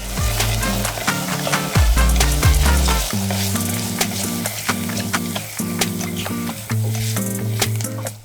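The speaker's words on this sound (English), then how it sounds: "Then you can add in the piñons or pine nuts. You'll want them to cook until lightly browned" Pine nuts (piñons) toast in a pan for chorizo and green chile cornbread stuffing, giving a light, steady sizzle with stirring, under music.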